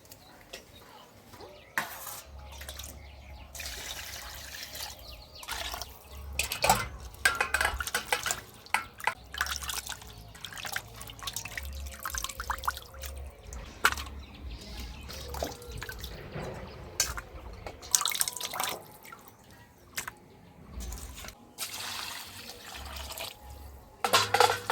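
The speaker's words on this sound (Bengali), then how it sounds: "মাছটা ধুয়ে নেই" Running water splashes steadily as large pieces of fish are rinsed in a rural kitchen, with dripping and sloshing throughout the long stretch and no talking.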